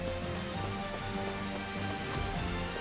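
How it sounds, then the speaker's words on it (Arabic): Steady rain falling in the Final Fantasy XV demo, a dense continuous patter of drops on surfaces, even in level throughout with no voices over it. "حشيل المطر وحيصير الجو صافي"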